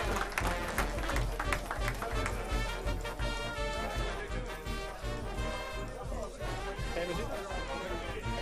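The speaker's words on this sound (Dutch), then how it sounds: "Applaus voor de prinsen!" Applause for the carnival princes at a Vastelaovend gathering in Limburg, with dense continuous clapping from a crowd and voices mixed in throughout.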